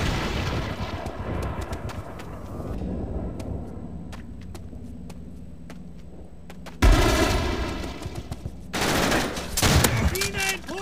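Bursts of MG42 machine gun fire in Call of Duty: World at War on the Wii, with loud rapid volleys and sharp shots cutting in and out over a noisy battlefield backdrop.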